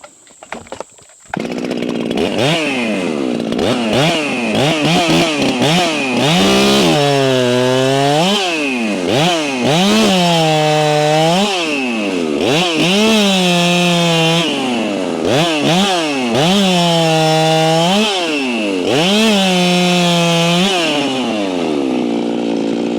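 A hand-filed chainsaw fitted with an 8-pin sprocket and a 60-driver chain runs loud and close, its engine revving up and down repeatedly in long sweeping surges under load.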